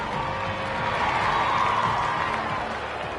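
Stadium crowd in the Rugby League 26 video game roars and cheers steadily after a line break, a dense, sustained wall of noise with no pauses across the whole stretch.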